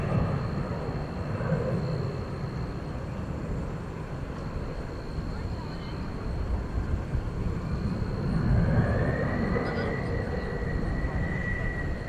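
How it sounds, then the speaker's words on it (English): CRJ regional jet taking off on runway 18 left at Dallas Fort Worth airport at night, a distant engine rumble that builds into a rising whine and louder roar toward the end, with faint radio voices. "CRJ taking off to Wichita, Kansas on 18 left."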